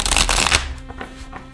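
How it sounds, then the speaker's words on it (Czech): Tarot cards riffle-shuffled close up in one quick, crisp burst that fades into faint rustling and small taps. "Ještě cítím, že to jedno zamíchám."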